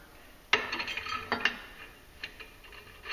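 The metal collar slides down an EPI CCT 510 clutch compression tool clamped in a vise, giving a sharp metallic clank followed by a few lighter scraping clicks and rattles, close and fairly quiet.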